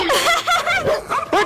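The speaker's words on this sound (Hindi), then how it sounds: "मम्मी कुत्ता।" A dog gives a few short, yappy barks and whimpery yips in a comic scene, close and fairly loud, with voice-like sounds mixed in.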